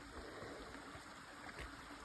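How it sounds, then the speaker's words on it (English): Faint, steady trickle and babble of a small stream at a hiking trail's water crossing, quiet and continuous with no voices. "cute little water crossing."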